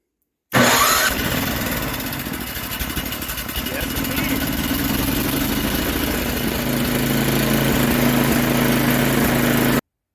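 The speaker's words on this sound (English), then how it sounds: "let's see if it fires up" A Tecumseh 37000 small engine cranks over on a replacement electric starter and catches, then runs loudly and continuously close by, with a steady rough idle and a voice speaking faintly over the engine noise.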